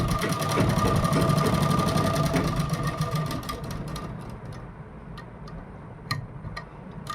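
A sewing machine runs a straight middle stitch along a kurti collar set on buckram, whirring steadily and loudly at first, then slowing into separate ticking clicks as it winds down.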